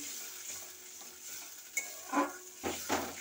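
Water goes into a pan of fried spice paste for a bhola fish curry made with milk; a soft sizzle and stirring build into louder hissing bursts as the liquid hits the hot oil, with no voices.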